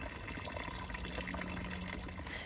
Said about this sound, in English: I really liked this dragon water fountain